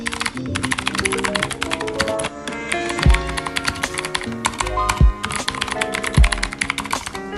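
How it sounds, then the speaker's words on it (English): Typing on a clicky red mechanical keyboard with a minimalist design: a quick, steady stream of sharp key clicks, close and alone, with a few heavier thocks, likely the space bar. "this keyboard is for those who want a clicky keyboard"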